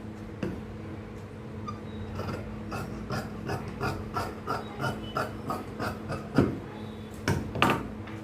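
Scissors cut chudithar fabric on a tailoring table, a series of crisp snips and rasping cuts in an uneven rhythm, close and fairly quiet, with no talk over them.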